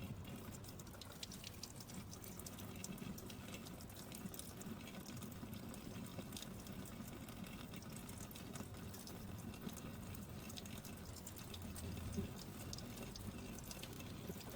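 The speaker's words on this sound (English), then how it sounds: "rinsed them with clean water" Water runs steadily from a tap as a child's small soapy hands are rinsed clean, a continuous close splashing hiss that carries unbroken for the whole stretch with no talk over it.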